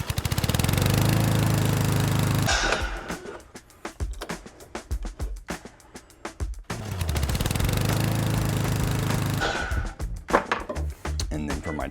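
Power saw cutting through a wooden board in a workshop, a loud whining roar in two long passes, with clattering and knocks between the cuts as the saw spins down and the wood is handled.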